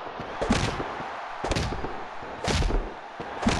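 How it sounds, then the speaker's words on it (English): Gunfire in a video game set in a European campaign: four sharp, loud bursts of shots about a second apart, each with a short echoing tail, and no talking. "See now, more shots right again."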